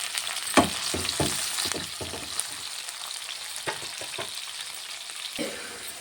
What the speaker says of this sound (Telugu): ఇప్పుడు ఆలు వేద్దాం. ఇలాగే అన్నీ 1 by 1 ఫ్రై చేసుకోవాలండి.